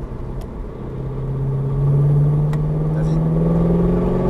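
Chevrolet Camaro at full throttle on the Lohéac circuit, a loud engine note climbing steadily in pitch as it accelerates, with a brief voice heard over the roar.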